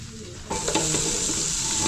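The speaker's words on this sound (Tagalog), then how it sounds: "Gisa natin sa tanglad." Rooster meat sautéed with lemongrass in a pan bursts into a loud, close, steady sizzle after a quieter moment, with a few stirring clanks at the start.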